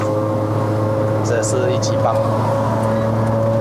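A Proton Inspira converted to a five-speed manual, with a 4B11 2.0-litre naturally aspirated engine and a single-plate racing clutch, drones steadily and loudly through an open window while someone talks over it.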